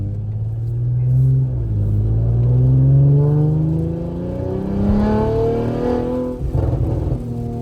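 A 2023 Audi RS5 fitted with 034 Motorsport downpipes and an AWE track exhaust, heard from outside as it drives past and revs, a loud rising and falling engine drone with a rumbling exhaust note and a sharper rev near the end.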